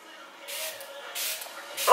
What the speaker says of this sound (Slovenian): Sprejček.